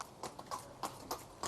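A horse walking with a steady clip-clop, each hoof strike a sharp, distinct knock at a regular pace, moderately close, with no voices over it.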